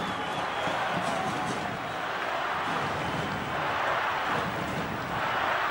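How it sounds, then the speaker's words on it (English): Constant roar of a rugby league stadium crowd at an Eels versus Dragons match, a broad, sustained wash of cheering with a commentator's voice running over it. "the crowd loving this"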